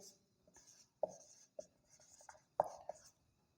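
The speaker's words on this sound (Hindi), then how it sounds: "तो सबसे पहले हम लोग यहाँ लिख दें" Pen writing on a paper answer sheet while solving a Jharkhand board physics exam question, a few soft scratchy strokes with short pauses, quiet and close.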